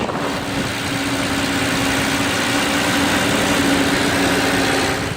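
A 2011 Maybach 62 S with its hand-built engine idles just after start-up, a steady, smooth low hum holding evenly and close throughout with no talking.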